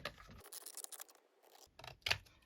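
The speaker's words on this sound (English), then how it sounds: "take my long scissors" Long scissors snipping through paper, several crisp cuts with short pauses between them, close and quiet.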